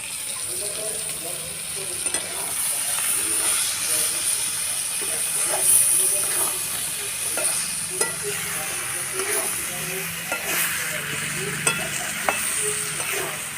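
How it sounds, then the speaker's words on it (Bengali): Boiled papaya and potato fry with spices in a hot pan for a papaya curry, a loud continuous sizzle and hiss with repeated scraping stirs and spatula knocks throughout. "পেঁপে আলু মশলার সঙ্গে ভালো করে কষিয়ে নিয়ে"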